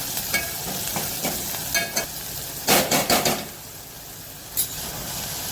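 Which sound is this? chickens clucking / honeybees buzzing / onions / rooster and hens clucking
onions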